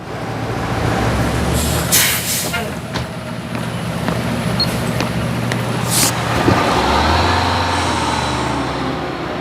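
Bus in urban traffic with a steady low engine rumble and road noise, brief hissy bursts like air brakes, and other vehicles passing throughout.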